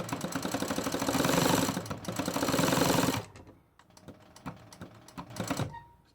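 A Consew 206RB industrial walking-foot sewing machine on a servo motor stitches in a loud, fast mechanical chatter for about three seconds, then drops to slower, sparser, quieter clicks and thumps.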